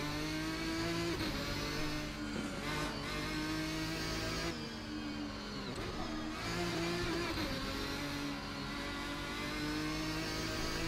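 A Ferrari GT1 race car in the Assetto Corsa racing game, lapping Road America, gives a loud, continuous engine drone whose pitch climbs and dips as it revs through gears, close and steady for the whole stretch with no talk.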